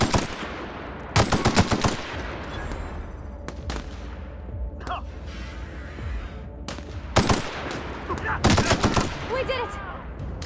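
Bursts of rapid automatic gunfire in The Outer Worlds video game, loud sharp volleys coming in clusters with quieter gaps between them, with no talking.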